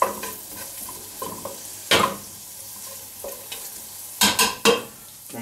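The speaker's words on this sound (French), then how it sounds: "voilà, je mets mes lardons." Lardons fry in a pan with a low background sizzle, broken by several sharp scraping stirs and knocks, close up and without speech.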